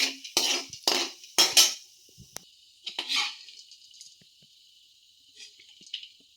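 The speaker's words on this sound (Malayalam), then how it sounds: "എണ്ണയിൽ നിന്ന് ഇത് കോരി വെക്കുമെന്നേ" A metal utensil scoops a fried mixture snack out of hot oil, giving several sharp clinks and scrapes close up in the first seconds, then sparse, quieter knocks and a faint hiss.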